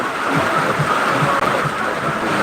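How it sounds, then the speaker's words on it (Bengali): Dense, steady hiss of heavy rain pouring down, loud and continuous with no pauses. "বৃষ্টির শব্দ শুনতে পাচ্ছি আপনারা নিশ্চয়ই"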